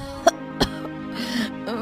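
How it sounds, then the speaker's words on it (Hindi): A woman in an animated Hindi story gives two short, sharp coughs in close succession, close and clear, followed by quieter throat noise. "ये कैसी खांसी है?"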